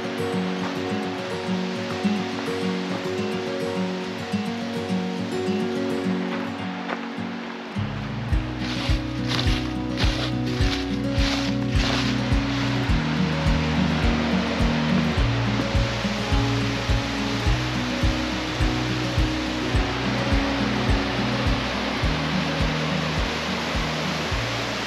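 Rushing water pours steadily at the Basin waterfall in Franconia Notch, a dense, continuous roar that grows fuller and louder partway through, heard alone without talk.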